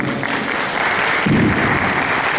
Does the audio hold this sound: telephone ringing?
no